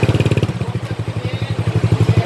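A motorcycle fitted with an Akrapovič exhaust and no silencer rumbles loudly and close in rapid, evenly pulsing exhaust beats. A short rev sits near the start, and a voice speaks faintly in the background.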